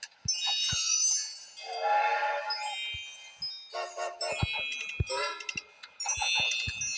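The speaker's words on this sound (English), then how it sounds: "Oh gosh, that's a fast train." A fast train races past in the mobile game Train Conductor World, heard as bright chiming, jingling game tones with sharp clicks and bursts, loud and close throughout with no talking.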